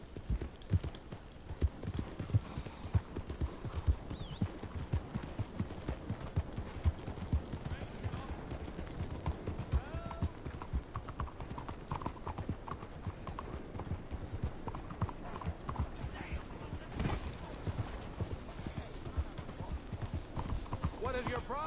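Horse hooves clip-clop steadily and continuously in a video game, with busy game background sounds and occasional voices mixed in.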